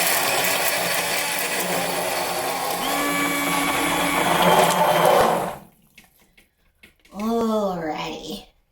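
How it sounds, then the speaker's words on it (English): A hand blender whirs steadily for several seconds while blending pumpkin soup with stock and vegetables, then cuts off, followed by a short burst of a voice speaking. "we are just going to blend up all of this stock and the pumpkin and our veggies all together"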